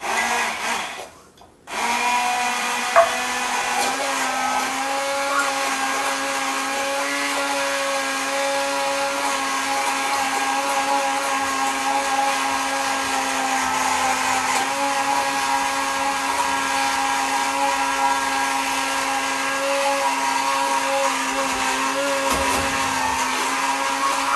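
A blender runs continuously for the whole stretch, a steady close whirring drone as it purees a sauce while oil is drizzled in, with no voices.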